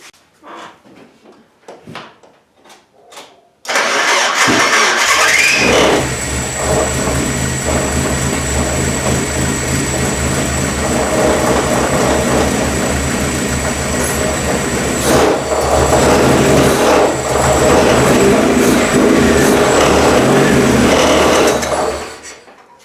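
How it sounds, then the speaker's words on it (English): A Mazda Miata engine during a rebuild, with many components still unhooked, catches after a few short cranking bursts and then runs loud and steady for about eighteen seconds before cutting off. "see if I can get a little bit of throttle in there, and see if it'll actually want to run."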